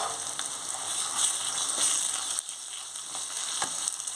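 Ginger garlic paste frying with onions in a hot pan, a steady close, loud sizzle with a few faint stirring scrapes, no talk.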